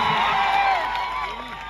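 A large crowd at an outdoor political rally in Zankhvav roars and cheers in a brief, loud swell of many overlapping shouting voices.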